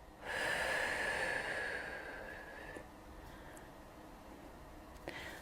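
One long, deep breath drawn in through the nose and slowly released during a yoga low lunge, close and airy, fading into quiet afterward.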